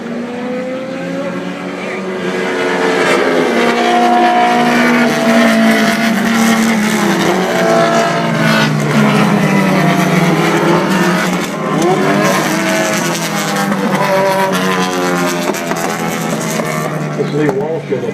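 Chuck Stoddard's vintage race car, winner here in 1959, roaring loudly past at the Put-in-Bay road race reunion, engine note rising and falling with other cars under a commentator talking continuously.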